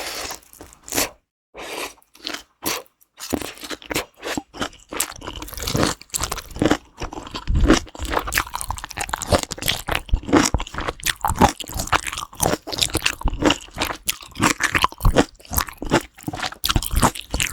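Crunchy bites and chewing of mala tang, a spicy Sichuan hot pot, close to the mic: repeated crisp crunches and wet squishy chews in an irregular rhythm, with short pauses between bites and no talking.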